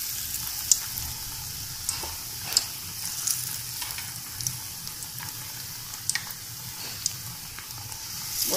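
Potato and besan pakoras frying in oil in a kadhai, a steady sizzling crackle with sharp pops and spits scattered throughout, close and moderately loud with no talking.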